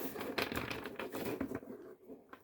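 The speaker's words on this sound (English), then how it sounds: "A couple of bridge shuffles until it feels ready." Stiff tarot cards riffle and flutter in a quick bridge shuffle, a burst of close crackling, then settle into a few soft taps.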